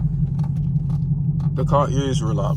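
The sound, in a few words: Chevrolet Camaro 2SS V8 engine while driving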